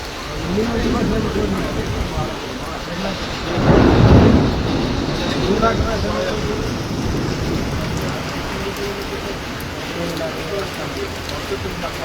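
Heavy rain falls in Rupnarayanpur, heard from a tea stall, a steady, dense hiss close at hand, broken near the start by a loud swelling rumble of thunder; a voice is faintly present.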